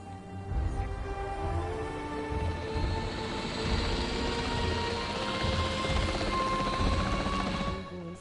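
A capture team helicopter in a Jurassic World video game drones steadily with a whirring rotor hum and a broad engine whine, holding near and constant for several seconds.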